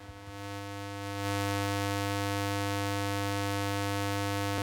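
A DIY light-controlled instrument gives off a loud, steady bassy hum with a buzzy, harmonic-rich edge, swelling up over the first second and then holding constant without a break.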